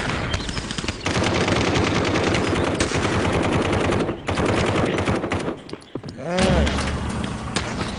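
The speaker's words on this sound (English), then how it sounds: "I'm gonna start using the shotgun" Loud, rapid gunfire from a shotgun in the VR shooter Aim XR on Oculus Quest 2, with dense bursts of shots filling most of the stretch, a brief lull, then heavy booming blasts near the end.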